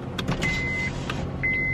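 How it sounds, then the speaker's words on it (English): Electric power windows on a car whirring down in two separate runs, each a steady motor whine lasting under a second, heard from inside the warm cabin over a low idling rumble. "Let's put these windows down."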